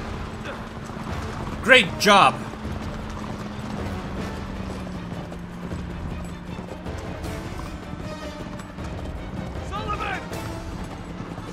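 Horse hooves clip-clop in the Uncharted 3 video game amid busy game noise and a couple of loud crashes, steady and moderately close, with a voice speaking briefly over it.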